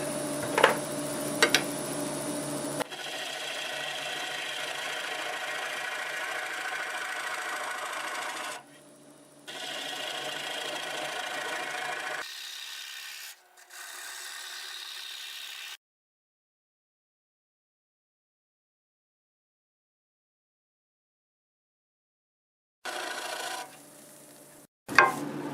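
A 1/2-inch swept-back gouge cuts a big walnut slab spinning on a lathe, producing a rough, rasping scrape in several long passes broken by brief pauses and one extended silence before the cutting resumes.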